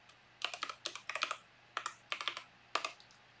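Login credentials typed on a computer keyboard, quick clusters of crisp key clicks in short bursts separated by brief pauses, close and clear with no talking.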